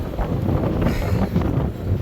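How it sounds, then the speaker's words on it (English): Heavy windstorm wind buffeting the microphone, a dense, low, rumbling roar with uneven gusty swells, continuous and close throughout. "we got a pretty good heavy windstorm today"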